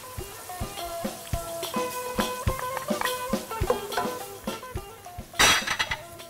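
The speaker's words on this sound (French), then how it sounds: "On va rajouter les pois chiches." Chickpeas tipped into a simmering sauce, a clatter of metal spoon and pot with ringing clinks, light sizzle underneath, and a louder rattling splash toward the end.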